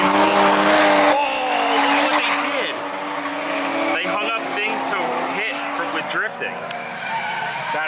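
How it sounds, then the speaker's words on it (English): Cars drifting at Japan's largest drift festival, Ebisu Spring Matsuri, with loud sustained tire squeals and revving engines, a person speaking over the noise. "Oh my god, people are drifting."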